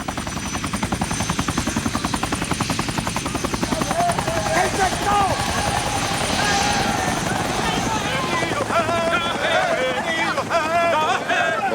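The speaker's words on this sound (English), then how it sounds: "Au coucher du soleil, les hélicoptères évacuent par pont aérien les 140 soldats qui étaient dans l'île." Chinook military helicopters run at dusk while airlifting soldiers off an island. Their loud, steady rotor throb fills the whole stretch, and faint voices sit underneath.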